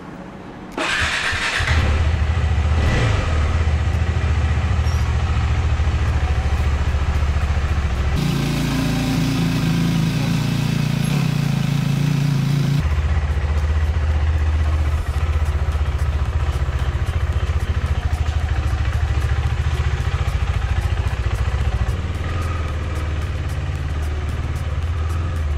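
KTM 390 Adventure motorcycle starting and riding around a house, its single-cylinder engine droning loud and close throughout, with a steadier, rougher stretch midway as it idles or shifts, and no talk.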